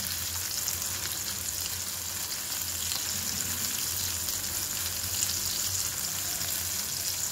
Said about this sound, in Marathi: कांदा पण आपण चांगला परतून घेऊ, टोमॅटो कांदा।